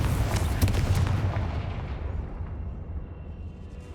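A Confringo fire spell bursts in Hogwarts Legacy, one heavy booming explosion at the start that rumbles and slowly fades away over several seconds.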